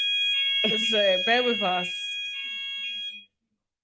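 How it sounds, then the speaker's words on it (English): A fire alarm sounds as a steady high-pitched electronic tone through most of the stretch, running under a voice and cutting off near the end. "Hopefully this is a quick alarm, guys."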